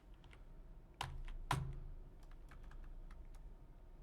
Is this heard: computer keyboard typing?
yes